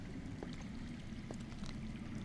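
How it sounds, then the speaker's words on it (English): Water flowing somewhere underground in a Game of Thrones scene: a faint, steady, low wash of running water with no breaks, distant and muffled, and no voices. "I hear water. From underground."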